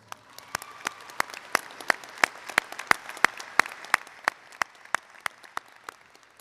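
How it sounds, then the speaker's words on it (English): A graduation audience at a Clemson master's ceremony gives a steady round of applause, with sharp individual claps standing out in a fairly even rhythm over a soft wash of clapping for several seconds, with no talking. "I think you all deserve a loud round of applause"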